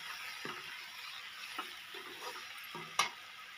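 Eggplant curry with fresh coriander stirred in a pan, soft sizzling hiss with faint scraping strokes of a spoon and a light clink, quiet and close, no talking.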